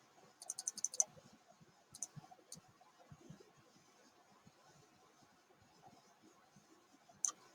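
Several quick computer mouse clicks, a tight double-click burst early on and a few single clicks later, faint and close with quiet room tone between them.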